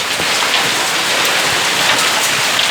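Heavy rain mixed with hail pours down in São Paulo, a loud, dense and continuous hiss of drops striking surfaces close by, with no talk.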